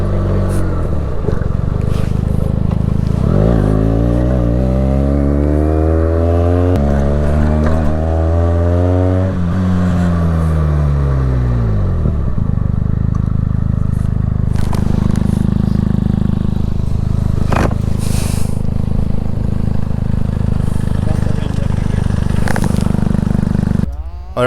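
A motorcycle rides a rough mountain road in Ladakh, its engine droning and rising in pitch as it revs, with steady wind rush and rattling from the bumpy track throughout.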